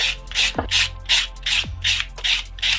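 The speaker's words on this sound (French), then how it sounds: "vous prenez un bloc blanc pour pouvoir adoucir un petit peu la surface de l'ongle" A white buffer block smooths the surface of a long acrylic stiletto nail, giving repeated rhythmic rubbing strokes, about eight in quick succession, close and fairly loud with no talk.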